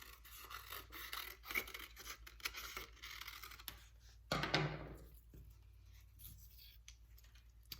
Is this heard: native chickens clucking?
no